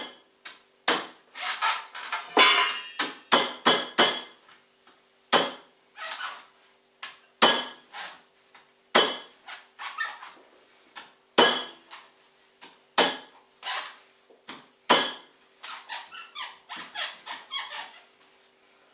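Sharp knife blows strike a whole coconut again and again, crisp percussive cracks and knocks landing in irregular bursts and clusters, close and loud with no talking.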